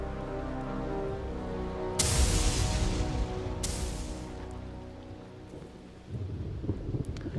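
Thunderstorm in the video game Tyranny: steady rain hiss underlies two sharp, loud thunder cracks with rumbling decay, followed by a renewed swell of rain and rumble toward the end, with no talk.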